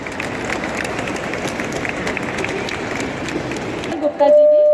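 Audience applause fills a hall at a World Cancer Day awareness program in Jammu, a dense, continuous clapping that runs for several seconds before cutting off abruptly.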